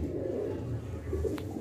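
Pigeons kept for sale in Bandel Naldanga coo in soft, low, rolling calls, close and continuous for a brief moment with a faint higher chirp near the end.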